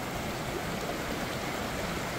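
A creek near Lizard Log Falls near Lost Corner, Arkansas, rushes steadily with a continuous, broad wash of flowing water and no talk.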